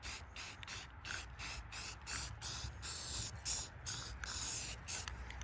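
Spray paint hissing onto rows of a wooden American flag through a template, a series of short close bursts separated by brief pauses, steady and even in loudness.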